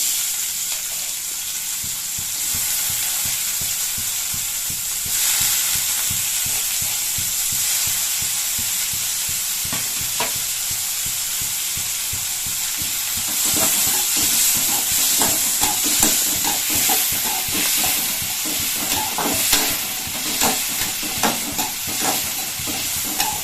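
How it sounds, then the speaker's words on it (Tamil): Pirandai (adamant creeper) frying in a little oil, a continuous close sizzle and hiss with repeated scraping and stirring strokes that grow busier toward the end. "இப்போ கொஞ்சமா எண்ணெய் விட்டு இப்போ இந்த பிரண்டையை இதில் சேர்த்துடலாம்."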